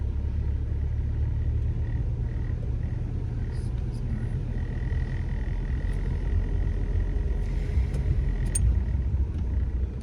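Car rolling slowly along a Kyiv city driving-test route, a steady low engine and road rumble heard from inside the cabin, with a faint high whine running throughout and no talk.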